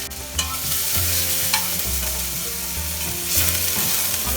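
Garlic, ginger, onion and green chili sizzle steadily in hot oil while being stirred in a pan for a vegetable soup, with a continuous loud frying hiss broken by a few sharp scraping clinks of the spoon.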